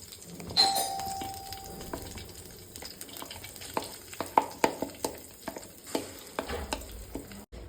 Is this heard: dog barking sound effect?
no